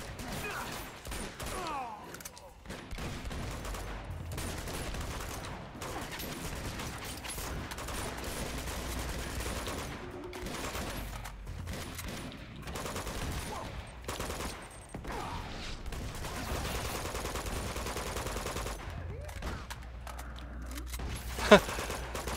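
Sustained exchange of gunfire in the Uncharted 2 video game, a steady crackle of many shots at moderate level that runs continuously with brief gaps and one sharp peak near the end.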